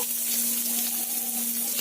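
Chopped onion with a dried red chilli and black cumin sizzles steadily in hot mustard oil, a close, continuous crackling fry with no talk.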